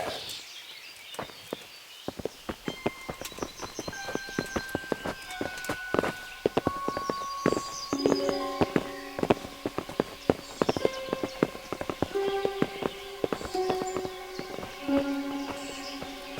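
Horses' hooves clip-clopping on a path in the medieval role-playing game Kingdom Come: Deliverance, an irregular stream of clattering hoofbeats that grows busier, layered with metallic jingles and ringing tones over a low ambient bed, with no speech.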